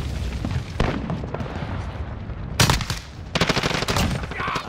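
Loud, close gunfire in Call of Duty: Modern Warfare comes as rapid automatic bursts and heavy booming shots, with a dense burst near the end over a rumbling battlefield background.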